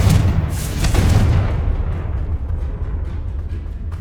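A Confringo spell explosion in the Hogwarts Legacy video game: a loud, deep booming blast that rumbles and slowly fades over a few seconds, with no talking.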